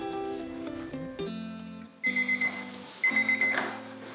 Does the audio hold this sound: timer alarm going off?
yes